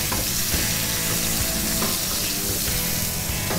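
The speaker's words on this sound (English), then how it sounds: "garlic, stir that around a bit, tomato paste, stir that around, get that toasted" Garlic and tomato paste sizzle steadily in a hot pan while being stirred, a close, loud, continuous frying hiss with faint scrapes of the spoon and no talk.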